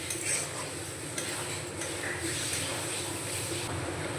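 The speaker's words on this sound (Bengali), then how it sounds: "মটরশুঁটিগুলো মশলার সঙ্গে ভালো করে কষিয়ে নেব।" Green peas are stir-fried with spices in oil in a pan while making matar paneer, giving a soft, continuous sizzle with light scraping and stirring clatter at moderate distance.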